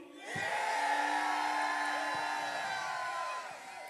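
Crowd at an emcee rap battle cheering and whooping for the performer Blue, a loud sustained roar of many voices that rises quickly, holds for about three seconds, then begins to fade.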